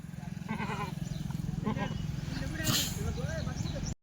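Two Kathiawari goats loaded in a car bleat several times in short, wavering cries over a low, steady vehicle rumble. Someone talks throughout, and the sound stops abruptly at the end.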